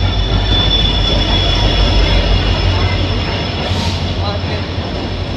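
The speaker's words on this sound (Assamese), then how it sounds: "আমাৰ ট্ৰেইন আহি গ'ল দেই" A train pulls into a station in Nazira, Assam, with a loud continuous rumble of wheels and carriages and a brief high squeal, heavy and close throughout.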